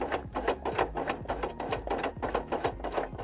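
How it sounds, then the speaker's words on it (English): A hand-cranked sewing machine turning in short bursts, its needle knocking out a few quick stitches in a steady mechanical rhythm, close and clear with no talking. "hand crank, 4 stitches, back off"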